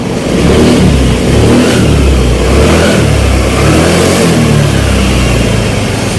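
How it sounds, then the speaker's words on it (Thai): A carbureted Honda Click 110 scooter engine revs steadily and loudly up close for about six seconds, holding a high, sustained drone with slight swells in pitch and no talking. "เวลาเร่งก็ลื่นดีครับ"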